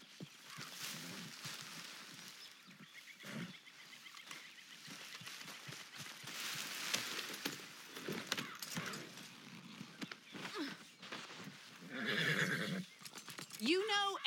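In the game Red Dead Redemption 2, a horse neighs and its hooves clip-clop at an easy pace, with characters talking over the sounds throughout.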